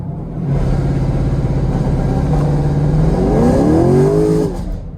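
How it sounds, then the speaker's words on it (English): A Chevrolet Camaro LT1 with a 6.2L V8 and 10-speed automatic idles loudly under launch control, then surges into hard acceleration with a rising, climbing engine roar near the end. "Alright, so now I'm going to demonstrate the launch control. Press that twice. I'm going to smash the brake, smash the gas."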